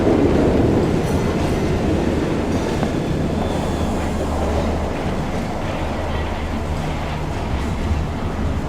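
Train running in the Genshin Impact video game, a steady broadband rumble with faint rhythmic rail clatter throughout, alone with no talk.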